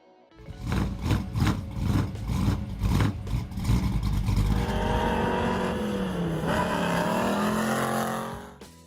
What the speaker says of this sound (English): (1969) Ford Mustang Boss 429.